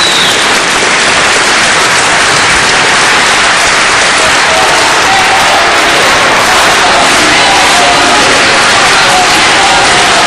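A studio audience at a televised dance competition applauds, dense loud continuous clapping filling the whole stretch with crowd noise, a voice faintly audible beneath.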